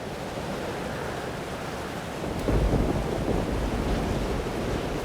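A thunderstorm in the Life is Strange Double Exposure video game: a dense, roaring wash of rain with a deep rumble of thunder swelling about halfway through and lingering to the end, with no voices.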